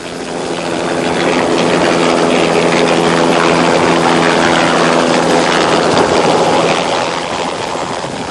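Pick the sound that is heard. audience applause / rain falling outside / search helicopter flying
search helicopter flying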